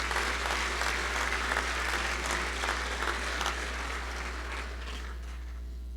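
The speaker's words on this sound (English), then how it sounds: "give them another good round of applause and ovation" Applause from a banquet audience at a livestock judging event, a dense spread of claps that stays strong at first and then thins and fades toward the end, with a steady low hum beneath.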